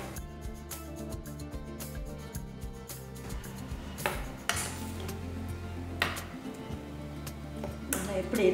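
Oil being stirred into chutney with a spoon, repeated light clinks and scrapes against a metal bowl at an irregular pace, close by, with a few louder knocks.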